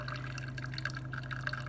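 A BLACK+DECKER CM618 single-serve coffeemaker brewing makes steady drips and gurgling over a constant low electrical hum, close and moderately quiet, with no talking.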